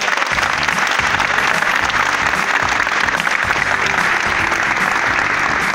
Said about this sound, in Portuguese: Uma salva de palmas para todos que participaram